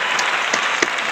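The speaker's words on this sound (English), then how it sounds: "Round of applause for that!" Applause from a studio audience greeting a guest named Eli Robledo on a talk show, a steady dense wash of clapping with a few sharper claps standing out, fairly loud and close.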